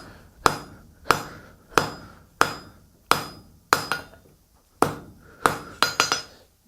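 Hand hammer drawing out a 4-inch taper on heated round steel stock being forged into a flat scroll, struck in a steady series of about a dozen sharp, ringing blows, close and loud, with no talking.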